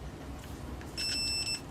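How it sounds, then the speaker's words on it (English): A multimeter gives a short electronic continuity beep while its probes test a laptop webcam's wiring, a brief steady tone heard over low background hum. "when there's a short circuit, it'll beep"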